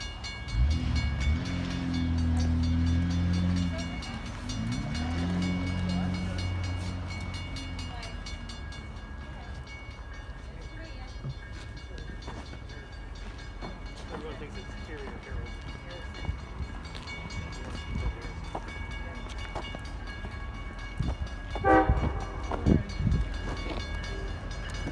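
An Amtrak Vermonter passenger train horn blares in long tones as it approaches a crossing in Brattleboro, Vermont, then the rumbling clatter of railcars rolls steadily past, with another short horn blast later.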